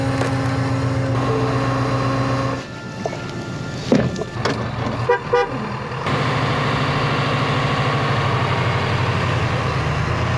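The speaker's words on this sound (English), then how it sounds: "Just got a truck coming right now." A truck rolling past on a road, a loud steady engine rumble that drops away, then a few knocks and clatters before the heavy drone returns and holds.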